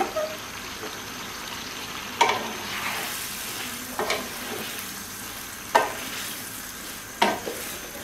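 Cut potatoes fry over high heat in a kadai after fish, a constant hissing sizzle at moderate volume with a few isolated clanks and stirs spaced several seconds apart.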